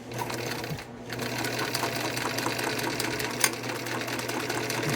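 A Bernina Record 7 sewing machine stitching fabric in a steady, close whirring hum with rapid mechanical needle clatter, pausing briefly near the start before running continuously.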